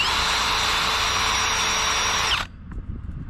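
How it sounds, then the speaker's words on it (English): A wire wheel grinds rust off an old Chevy Silverado wheel, a loud steady high-pitched whirring scrape held for over two seconds before cutting off abruptly into quieter handling noise. "when I hit this with the wire wheel"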